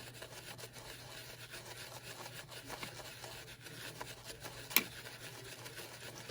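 Makeup brush spun against a textured cleaning mat by a spinning brush cleaner: a quiet, continuous rubbing, scrubbing whir, with one brief sharper tick near the end.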